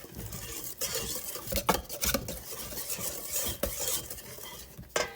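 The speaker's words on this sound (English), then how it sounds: "I just use a wire whisk. I don't use a mixer or anything for my cake mixes. I just do it by hand." A wire whisk beats vanilla cake batter by hand in a bowl, producing rapid continuous scraping and tapping strokes against the bowl with a few sharper clinks.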